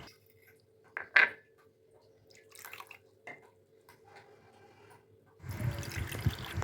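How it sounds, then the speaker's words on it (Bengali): Semolina and palm sugar candy being rinsed in water, with a few distinct drips and splashes early on, then a louder stretch of sloshing water near the end, fairly close. "এই যে সুজি আর তালমিছরি দুটোকেই ধুয়ে নেব, ধুয়ে তারপরে বানাবো।"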